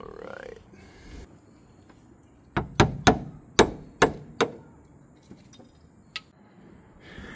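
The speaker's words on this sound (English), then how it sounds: "Just a few taps of the hammer and loosened up some of that rust." Half a dozen sharp metallic hammer taps strike a rusty clutch part on a 1978 Datsun 280Z, close and ringing in an irregular burst, then one lighter tap follows after a pause, with faint rustling before.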